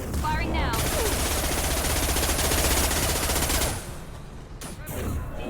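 Sustained rapid automatic gunfire in the video game Mass Effect 2, loud and continuous for several seconds before tapering into scattered shots.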